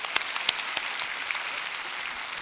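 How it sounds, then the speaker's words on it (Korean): A church congregation applauding, many people clapping in a steady patter with a few sharper, closer claps standing out, continuing for a couple of seconds without speech. "박수."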